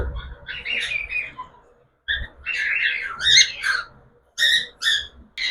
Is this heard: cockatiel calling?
yes